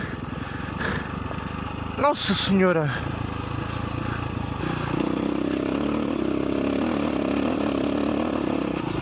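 A KTM 525 EXC enduro motorcycle running off-road, its engine droning steadily in the background while a man exclaims over it, with a brief sharp rising whine midway before settling back to a lower steady rumble.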